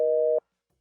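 A single electronic phone-line tone from a video game sounds right after a call ends, a steady clean beep lasting under half a second before cutting to silence.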